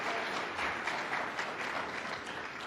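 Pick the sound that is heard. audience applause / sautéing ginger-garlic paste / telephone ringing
audience applause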